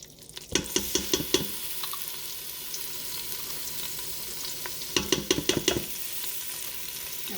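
Garlic sizzling in melted butter for honey-garlic soy chicken, a continuous close hiss with two bursts of rapid spatula scraping and tapping against the pan, one near the start and one toward the end.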